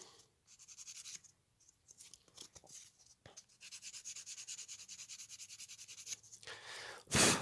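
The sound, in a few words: sanding a filled plastic droid part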